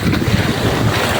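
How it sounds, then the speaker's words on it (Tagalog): Heavy surf pounds a flooded shoreline at Isla Verde in a dense, roaring wash with strong wind buffeting the microphone, loud and close throughout. "Malakas ang dagat, malalaki ang alon, malakas ang salpok ng alon."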